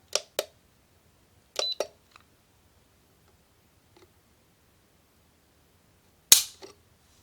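The trigger of a compact 9mm 1911 pistol clicks sharply several times as a Lyman trigger gauge measures its pull. The clicks come close-up and alone: one pair, then another pair, then a single louder snap after a pause.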